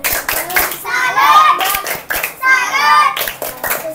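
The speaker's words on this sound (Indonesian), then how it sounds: "Oke, kita beri tepuk salut untuk kelompok 2." Children in an Indonesian classroom perform the 'tepuk salut' clapping routine, with sharp rhythmic group claps alternating with chanted children's voices, loud and close.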